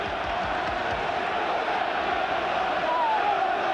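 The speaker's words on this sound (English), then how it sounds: "And the Derby crowd, who in the better days here were always worth a goal to the team," Derby County supporters roar at a football ground during an FA Cup sixth-round match, a dense, sustained crowd noise with a faint whistle-like tone rising briefly through it.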